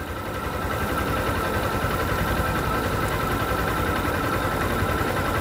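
A motorcycle pulling away in first gear as the clutch is eased out during a driving-test demonstration: a constant, close, loud engine drone with rough low vibration and no talk.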